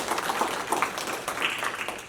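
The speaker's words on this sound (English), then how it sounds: "Let's give her a round of applause." Applause from the audience after a presentation on a prolapsed uterus in sheep: a steady patter of many hands clapping at moderate volume, with a few voices faintly underneath.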